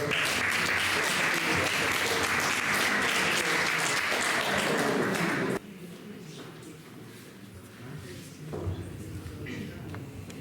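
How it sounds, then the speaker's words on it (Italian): An audience applauds loudly for a tour guide named Franca at a gathering in Sardinia. The clapping stops abruptly after about five and a half seconds and gives way to quieter room sound and some voices. "Un applauso."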